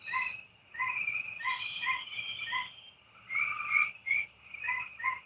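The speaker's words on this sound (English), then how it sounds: "Them frogs always sound like a dog that's in trouble." Frogs croak in repeated short, bright calls over a steady chorus of crickets and insects, an outdoor night scene with no voices.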